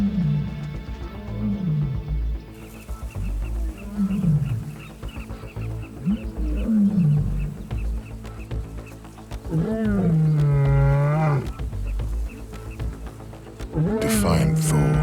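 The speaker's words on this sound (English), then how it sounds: "The Nomads' roars echo down the valley." Several wild lions roar in a valley near a river, a long series of deep, pulsing grunting roars rising and falling that echo outward, with a narrator's voice running over them.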